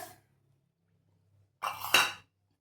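A spoon clinks against a pot while stirring cornflour and milk powder into cold milk, one faint tap at the start and then a short scraping, clinking stir.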